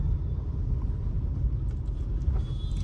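Low, steady engine rumble from a car moving slowly during a beginner's driving lesson, continuous and fairly quiet, with a few faint clicks from inside the cabin and no speech.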